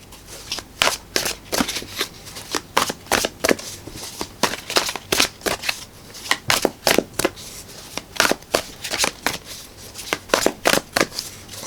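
Oracle cards are shuffled by hand in a quick, repeated riffle of crisp, papery slaps and flicks, close and clear, in short bursts with brief pauses between them.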